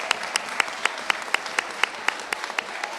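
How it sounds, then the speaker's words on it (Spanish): Applause at a family courts law seminar, a bed of crowd clapping with one nearby clapper striking sharp, evenly spaced claps in a regular rhythm. "un aplauso para este grupo"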